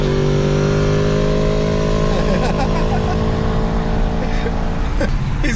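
A Yamaha R1 sport motorcycle races alongside a Tesla on the road, its engine droning steadily and loudly throughout, with a strong continuous roar of wind and road noise and faint bits of talk underneath.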